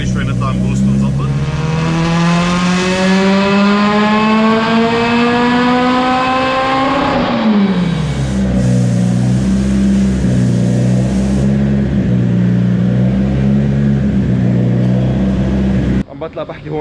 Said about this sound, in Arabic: عم بطلع بحكي هون عشان الصوت السيارة كثير عالي جوا